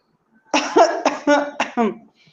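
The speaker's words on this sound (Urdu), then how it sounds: "کمرے میں اچانک کھانسی کی آواز آئی۔" A man coughs in a hotel room, a tight burst of four or five harsh, close coughs in quick succession, loud and alone.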